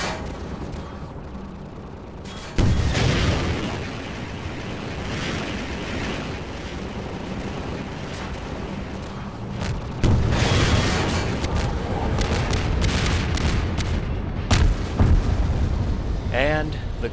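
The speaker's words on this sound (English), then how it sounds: "The gunship is destroyed." A combine gunship in Half-Life 2 being destroyed by rockets, with a sustained roaring blast and rumble, then a second loud burst of explosive noise, with voices faintly under it.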